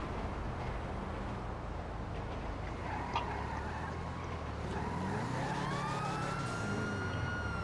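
Police car siren in GTA Online, a steady wailing whoop that rises and falls in pitch over a dense layer of traffic and engine noise, growing clearer and more prominent in the last few seconds.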